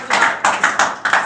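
Several people clap together in a loud, rhythmic pattern of about four bursts during a vision and training session.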